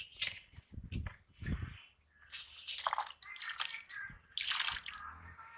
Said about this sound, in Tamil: இப்போ இது கூட பாதாம் பாலை சேர்த்துக்கலாம். அதை கொண்டு வந்து ஊற்றுங்கண்ணே. மெதுவாக ஊற்றுங்க